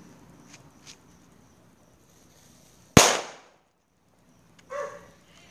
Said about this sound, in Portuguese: Aquela bombinha que faz muito barulhinho.